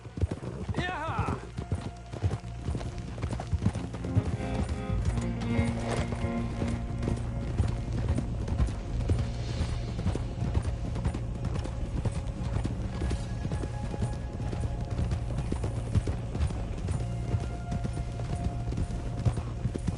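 Horse hooves clip-clop in Red Dead Redemption 2, a steady rhythmic trot running throughout over low background music, with a brief whinny and a voice speaking near the start.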